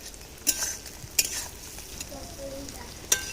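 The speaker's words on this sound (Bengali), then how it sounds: "ডিমটাকে বেশি কড়া করে ভাজবো না" An egg fries lightly in a pan, its soft sizzle broken by three sharp spatula clinks and scrapes against the metal.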